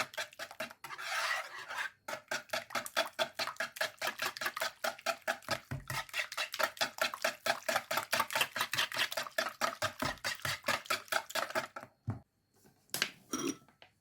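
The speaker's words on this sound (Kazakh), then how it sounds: "Енді жақсылап араластырып алам." Pancake batter of ayran, eggs, salt and sugar is whisked briskly in a bowl, producing a fast, even run of rhythmic scraping strokes that continues for about twelve seconds, then stops and gives way to a few scattered clinks.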